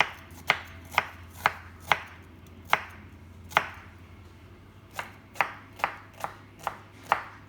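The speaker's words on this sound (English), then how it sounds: "We need one small onion, finely chopped." A knife finely chopping a small onion for tandoori lamb burgers, with a dozen crisp, evenly spaced blade strikes on a cutting board, close and clear, no talking.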